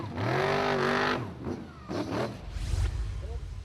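The Viking, a Formula Offroad car driven by Ingvar Jóhannesson at an Icelandic Formula Offroad 2020 round in Hafnarfjordur, rises and falls through several strong engine revs at moderate distance, with a rougher rumble toward the end.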